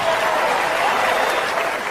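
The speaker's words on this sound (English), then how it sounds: "Some of you are clapping" Audience applause at a Gabriel Iglesias stand-up comedy show, a sustained burst of crowd clapping filling the room at steady loudness without talk over it.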